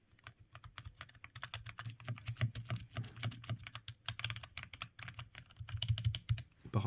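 Steady typing on a mechanical keyboard with unlubricated switches, a fast run of soft clacky keystrokes, fairly quiet and close.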